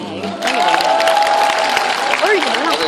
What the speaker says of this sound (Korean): 이쁘면 엄마 아빠 박수 쳐주세요.